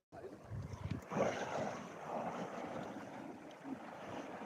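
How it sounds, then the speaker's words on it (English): Sea waves smash in along the seafront at Lyme Regis, a rolling, rushing surge with wind buffeting the microphone, rising and easing at moderate distance with no talking. "Look at them waves smashing in along there."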